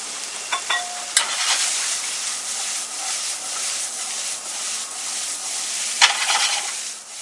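Peppers frying in a pan on a farm cooking set, a steady bright sizzle with occasional utensil clicks and scraping stirs, close and moderately loud, with no speech.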